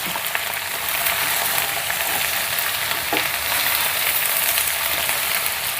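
Okra sizzles steadily in a pan of hot oil, a dense crackling hiss that runs unbroken. A brief stirring scrape cuts in partway through. Nobody speaks.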